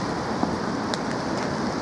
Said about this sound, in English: But this rain is forecast like this until 9 o'clock tomorrow morning.